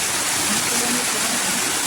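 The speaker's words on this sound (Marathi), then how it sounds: "हे बघा हे पूर्ण धबधबे प्रवाहित झालेले आहेत." Monsoon waterfalls at Bhimashankar pour in a steady, broadband roar of rushing water, dense and continuous throughout without breaks.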